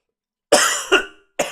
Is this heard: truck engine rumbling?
no